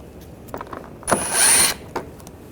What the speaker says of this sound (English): Using a T25 socket, take these screws out.